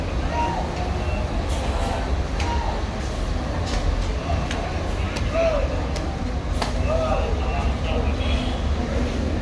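A Rosalia Indah bus idling near the ticket office in Palembang, a low steady engine rumble with scattered clanks and bustle, while someone talks over it.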